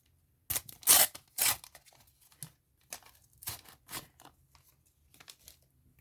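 A Panini Euro 2020 sticker pack is torn open by hand, several sharp close rips with paper crinkling in between, loud at first and then quieter tearing and rustling.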